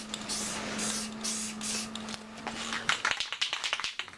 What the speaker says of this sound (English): Trying to make sure I got a nice even coat of paint on that pre-cleaner